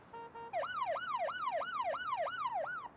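Wailing police car siren in a delivery transport simulation video game, sweeping up and down in a steady repeating cycle of about seven loud, close wails, preceded by a brief two-tone blip.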